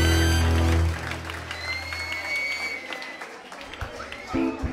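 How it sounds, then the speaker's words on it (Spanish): Audience applause at a live music show, breaking out after a loud sustained tone cuts off, then a fairly steady wash of clapping and crowd noise with scattered louder bursts near the end. "¡Un aplauso, muchachos!"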